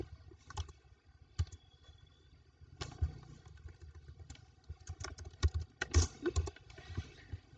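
Quiet, irregular clicks of computer keys as a name is typed, arriving in short uneven runs with small pauses and building to a denser flurry toward the end.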